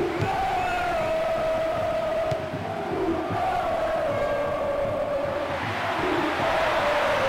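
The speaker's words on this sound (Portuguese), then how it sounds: "A torcida incendeia." Stadium crowd in the football video game Bomba Patch roars steadily and loudly throughout, a broad sustained wall of cheering with a rising tone, alone without commentary.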